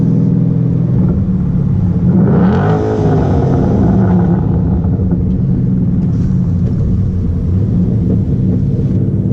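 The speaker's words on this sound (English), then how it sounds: "Let me see if I can get a little exhaust for you." A 2012 Ford Mustang Boss 302 engine rumbles steadily through its exhaust, rising into a louder rev midway before settling back to a deep, continuous idle close by.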